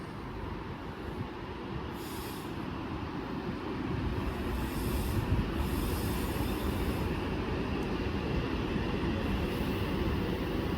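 A Class 390 electric train departs Wigan North Western for London Euston, its rumbling wheels and a rising rail roar growing steadily louder, with occasional high squeals from the wheels.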